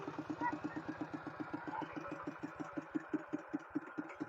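A farm tractor engine idles with a rapid, even chugging pulse, fairly close, with a faint voice in the background.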